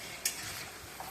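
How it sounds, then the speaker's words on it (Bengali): Prawns frying in fish oil seasoned with salt and turmeric, a soft continuous sizzle near the pan with a sharp spatula scrape and a light tap of utensil against the pan. "চিংড়ি মাছ ভাজাটা"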